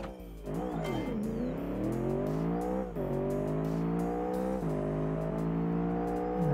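A sleeper car on a test run without nitrous accelerates hard, the engine climbing through several revving gear pulls with brief dips between shifts, loud and close.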